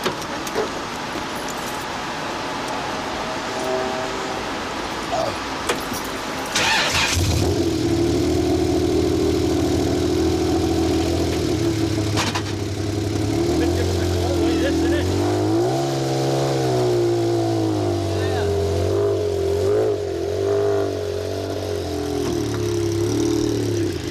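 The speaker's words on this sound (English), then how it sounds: "Metro is probably one of the most popular of all the rally cars nowadays, particularly as it sounds so good, and Stephen was able to take us" An Austin Metro rally car engine idles with a low, steady drone, then revs and settles, its pitch rising and falling, while someone talks over it.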